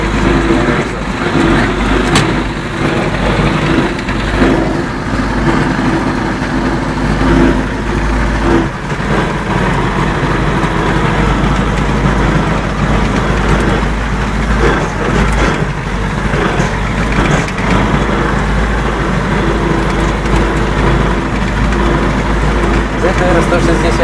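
A Zetor 7011 tractor pulling a ZTR-165 mower heads home, its engine a steady, continuous low drone with no breaks, while voices talk faintly over it.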